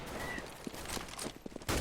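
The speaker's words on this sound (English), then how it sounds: "They meet the spray of a FAMAS, I believe that was, in Lamp yet, and the M4 as well." FAMAS and M4 rifles spraying in Counter-Strike on de_dust2, a rapid burst of overlapping gunshots crackling with no talk.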